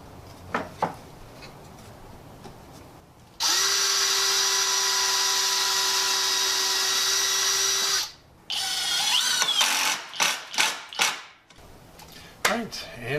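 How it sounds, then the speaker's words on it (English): A power drill boring pilot holes and driving screws into 2x4 lumber for a wooden pillory: one long continuous high whine for several seconds, then short bursts of drilling with clatter between, close and loud. "I'll drill some pilot holes and put some screws in those,"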